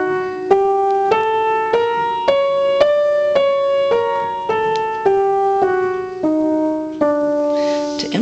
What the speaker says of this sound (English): The Persian scale has a really interesting pattern.